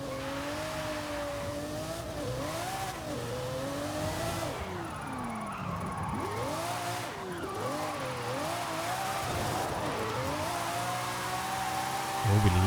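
A drift car in a racing video game revs and wails continuously with rising and falling engine pitch and tire squeal, loud and sustained throughout.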